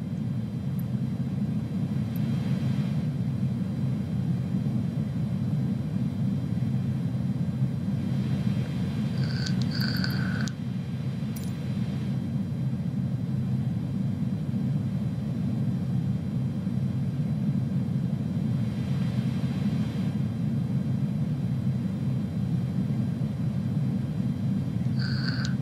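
An Airbus A310 in Microsoft Flight Simulator 2020 gives a steady, low jet-engine roar during takeoff from runway 01 at San Francisco, held at an even level throughout with a few faint high beeps.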